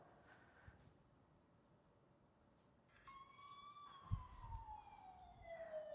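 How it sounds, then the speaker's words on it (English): Police car siren recorded and played back from a laptop, entering faintly after a quiet stretch with a wailing tone that rises then sweeps downward, thin and tinny over room noise. "I recorded a police car on my laptop."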